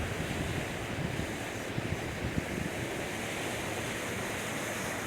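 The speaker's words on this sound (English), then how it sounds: "McDowell Creek is a fast running creek." Flooded McDowell Creek in Geary County, Kansas, running fast near a community center bridge, a loud, steady, broad rushing roar of water, with wind buffeting the microphone and no talk.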